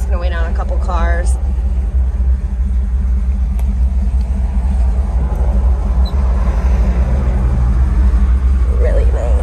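A 1957 Chevrolet 3100 pickup rumbles along with a steady low engine drone and road noise, heard from inside the cab while someone speaks briefly at the start.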